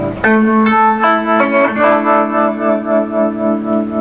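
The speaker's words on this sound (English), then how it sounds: "I made a tremolo that I liked" A Line 6 MM4 modulation pedal set to a custom tremolo on electric guitar: a picked chord rings out and then throbs in a regular wavering pulse, loud and up front, with no voices.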